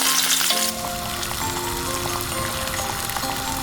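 Onions and garlic with fish sauce fry in hot oil in a pan, a loud steady sizzle that runs through the whole stretch, with a brief scrape or clatter of stirring at the start.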